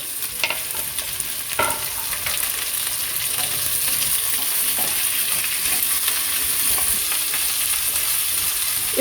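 Chopped tomato goes into a pan of frying potatoes for a jackfruit and prawn curry, giving a continuous moderate sizzle with scattered stirring scrapes and clicks throughout.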